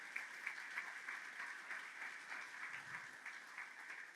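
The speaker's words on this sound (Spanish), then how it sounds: "Vamos a darle fuerte el aplauso al Señor." Church congregation applauding, faint and distant rapid clapping that holds steady for a few seconds without talk.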